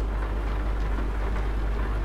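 Steady rain hisses continuously in the Euro Truck Simulator 2 video game during a wet night drive, a dense, even wash of sound with a low rumble beneath and no talking.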